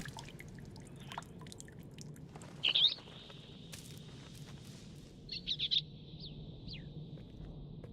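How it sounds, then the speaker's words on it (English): In the fantasy game Book of Travels, a small bird gives two short bursts of high chirps a few seconds apart over a quiet, low ambient background. "I think I heard a small chirping sound."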